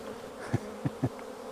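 Honey bees streaming out of freshly opened lower vents on a hive box, a low steady hum of buzzing with a few louder bursts as insects fly close past, fairly quiet overall.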